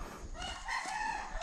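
Rhode Island chicken making steady, close, fairly quiet clucking and crowing-like calls that fill the moment, with no talk over them.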